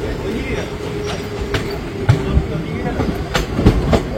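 The Haldibari Tri-Weekly Intercity SF Express rolls along the line while slowing, a loud steady rumble with repeated clacks and thumps of wheels over rail joints, heard from onboard.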